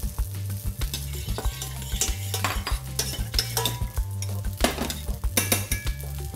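A spoon stirs cream into a truffle cream sauce in a pan on the stove, with steady rhythmic scraping and clinks over a soft sizzle, close and alone.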